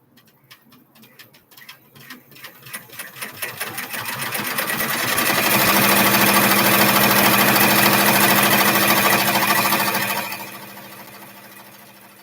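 A sewing machine stitching fabric for a craft project: sparse needle taps speed up into a loud, steady whir, then slow and stop near the end.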